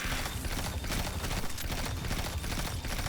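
Scorch Cannon in Destiny 2 firing amid dense, continuous game combat noise, with rapid bursts and explosive blasts layered thickly over one another throughout.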